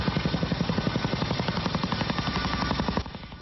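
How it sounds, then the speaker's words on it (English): An Army helicopter passes overhead at night, its rotor giving a loud, rapid, steady chop that continues throughout before easing slightly near the end. "This is the Army helicopter James Howe says he heard loud and clear from"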